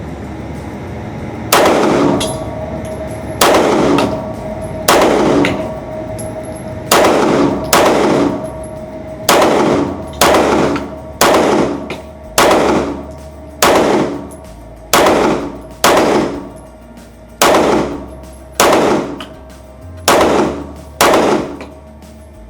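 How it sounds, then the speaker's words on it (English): A 2011-style handgun, ported and compensated, fires at a target in a slow, steady series of about fifteen loud, sharp shots spaced roughly one to two seconds apart, each ringing out briefly, with no talk. "Let's shoot the top target."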